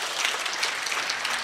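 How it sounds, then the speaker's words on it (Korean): A seminar audience breaks into hearty applause, a dense burst of many hands clapping together, close and steady for a brief moment with no talk over it. "우리 다 같이 힘찬 박수 한번 치고요."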